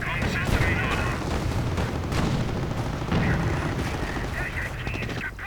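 Gunfire and artillery from a WWII strategy game: a dense, continuous barrage of shots and booming blasts, with rattling bursts and heavy impacts layered throughout.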